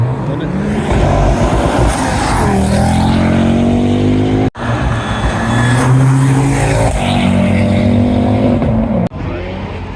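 A fast car accelerates past nearby, engine note climbing through several gears with loud close revving and a couple of abrupt cuts, little to no talking over the roar.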